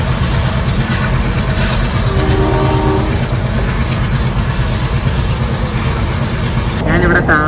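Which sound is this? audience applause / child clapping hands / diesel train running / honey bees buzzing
diesel train running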